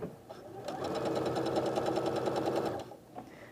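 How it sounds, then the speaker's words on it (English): A sewing machine with a quarter-inch foot stitching down a length of quilting fabric, a loud, steady rapid whir running close for about three seconds before stopping. "And now I'll stitch down the length of fabric."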